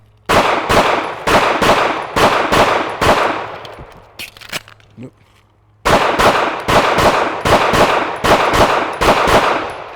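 Pistol shots in a shooting class ring out as two loud, close strings of evenly spaced single shots, separated by a quieter pause for a reload with faint clicks and handling noise.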